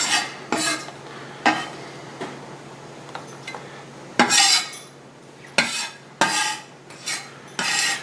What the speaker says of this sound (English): You're not really supposed to scrape kind of with the blade of your knife like that